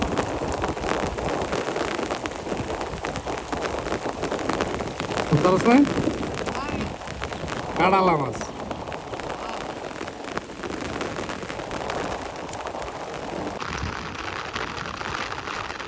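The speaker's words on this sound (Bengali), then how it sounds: "প্রচুর পরিমাণ বৃষ্টি হচ্ছে" Heavy rain pours steadily on an open riverside fishing spot in wind, a dense continuous hiss through the whole stretch, with someone speaking briefly over it.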